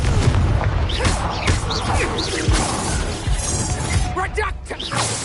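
Spell blasts in the game Hogwarts Legacy, with repeated booming, crashing explosions and shattering debris layered over busy combat noise and a low rumble, with a voice speaking under the action.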